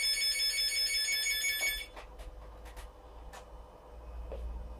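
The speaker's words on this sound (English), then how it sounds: "I hope you can see the analog phone ringing." An analog phone on a VoIP setup rings with a loud electronic trill for nearly two seconds and then stops, leaving quiet room noise with a few faint clicks and taps.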